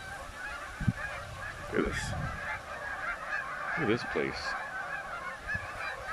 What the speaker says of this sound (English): I mean, if you can get around the sound of the honking,